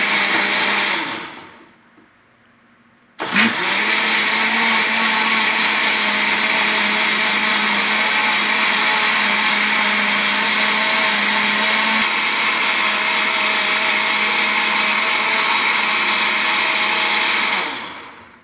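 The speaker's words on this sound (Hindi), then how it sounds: "इसे हम तब तक ब्लेंड करेंगे जब तक कि सेब और खजूरें इसमें अच्छे तरीके से हल ना हो जाएं।" A kitchen blender purees apples and dates for a milkshake: a brief burst, a pause, then a steady, loud, high whine that holds for about fourteen seconds before cutting off abruptly.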